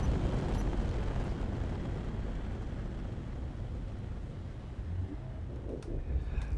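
Rocket launcher fire in the Space Engineers video game, a space-combat test of a cruiser's weapons, heard as a continuous loud roaring rumble that stays steady throughout, with faint clicks near the end.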